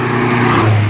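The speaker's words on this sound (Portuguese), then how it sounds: "Carro velho desse correndo feito um doido" An old car speeds past on a potholed highway, its engine drone close and steady for a brief moment.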